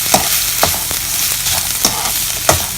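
Rice-flour paste frying over low heat in a pan while a spoon stirs and scrapes, steady soft sizzle with regular sharp scraping strokes, close and loud.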